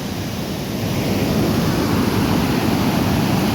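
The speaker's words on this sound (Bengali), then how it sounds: "এই জল বেরিয়ে চলে যাচ্ছে আমাদের শিলাবতীতে" Floodwater from the Ghatal flood rushes out toward the Shilabati river, making a loud, steady, broadband roar like a waterfall that holds constant throughout with no voices.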